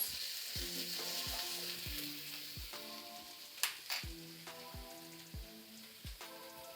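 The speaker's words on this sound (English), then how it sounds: "When you're stir frying vegetables, you want your wok to get really hot." Vegetables sizzle steadily in a hot wok, with sharp metallic scrapes and clinks as they are tossed and stirred.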